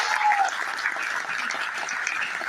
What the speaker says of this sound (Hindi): एक जोरदार ताली चाहूंगा उनके लिए